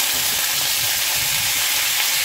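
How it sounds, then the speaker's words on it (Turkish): Steady, loud sizzling of small boiled and cold-water-soaked potatoes frying in hot oil, a dense continuous crackle with no voices. "Sıra geldi haşlanmış, soğuk suda bekletilmiş minik patateslerimizi kızartmaya."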